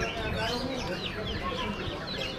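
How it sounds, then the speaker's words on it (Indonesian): Arab crossbreed chickens cluck and chatter continuously up close, a dense, busy flock sound filling the short stretch with no pause. "Peranakan ayam Arab."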